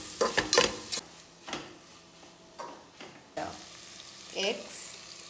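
Masala for egg biryani stirred in a pan with a little salt: a cluster of quick scraping, clattering strokes up front, then scattered single scrapes over a soft, steady frying hiss.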